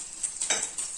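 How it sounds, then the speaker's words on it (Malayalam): French toast fries in ghee over low heat with a steady high hiss of sizzling, broken by a few soft scrapes and stirring touches in the pan, close and alone. "ലോ ഹീറ്റിൽ വെച്ച് നമ്മൾ പൊരിക്കണം."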